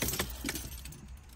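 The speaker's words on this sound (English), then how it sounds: "Got that many keys." A bunch of car keys for a 2012 MINI One jangles briefly and faintly, a short metallic rattle in a quiet car interior.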